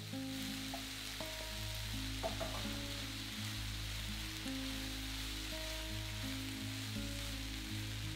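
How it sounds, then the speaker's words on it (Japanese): Okara stir-fried with softened vegetables in a pan gives a steady, soft sizzle and frying hiss throughout, quiet and continuous, with light stirring and no voices. "野菜が柔らかくなったらおからを加えて炒めます。"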